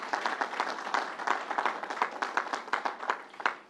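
A modest crowd at an outdoor announcement in Nassau County applauds labor workers, a fairly sparse, crisp clapping with individual hand claps standing out, moderately close and steady throughout.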